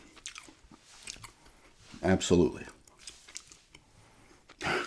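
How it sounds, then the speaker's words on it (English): Close, wet gum chewing in an ASMR interview roleplay, with soft clicks and smacks running under quiet talk and a couple of louder bursts of mouth sound. "Why am I always chewing gum?"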